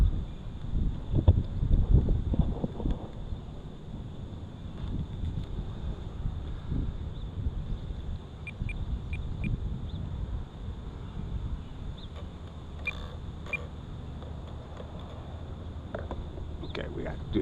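Gusty wind buffets an outdoor microphone on a breezy morning at a model airplane flying field, a steady low rumble with stronger bursts early on and faint distant sounds later.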